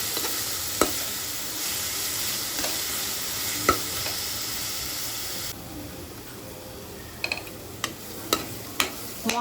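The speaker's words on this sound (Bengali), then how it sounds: "মশলাটা আমার ভালোভাবে কষে গেছে" Spice paste with turmeric, Kashmiri chili powder and salt stir-fried in a pan for tangra fish chorchori: a steady close sizzle broken by occasional spatula taps and scrapes, quieter toward the end.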